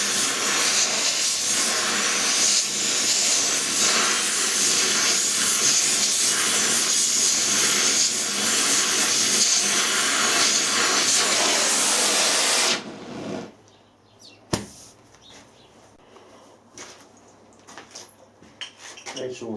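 Blowtorch roars loud and steady for about thirteen seconds while heating copper to a steady red to anneal it during model boiler flanging work, then cuts off, leaving quiet workshop clatter and a sharp knock.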